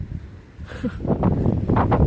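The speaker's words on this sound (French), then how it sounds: "Le vent là, c'est pas top, hein. Il y a tout qui s'envole dans la ville." Wind buffets the microphone in a city, a low rumbling roar that swells and gusts unevenly, rising stronger in the second half with brief rustling flutters.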